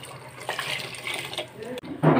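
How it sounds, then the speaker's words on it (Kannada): Water is poured into a mixer grinder jar while a lima bean sambar is cooked, a steady splashing fill that swells louder near the end, with faint talk behind it. "ಇವಾಗ ನಾನು ನೀರು ಹಾಕ್ಕೊತಾ ಇದ್ದೀನಿ ಮಿಕ್ಸಿ ಜಾರಿಗೆ"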